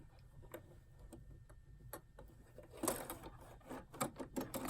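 A sewing machine stitches knit binding onto a Greenstyle Lacy Slope tank top at a long stitch length, giving quiet, regular ticking stitches that speed up into a denser, louder run of stitching toward the end.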